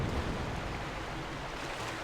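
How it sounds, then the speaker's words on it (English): Water suddenly filling a channel in Zelda: Twilight Princess HD, a steady broad rushing wash like surf that holds at an even level throughout. "watch as the water instantly appears"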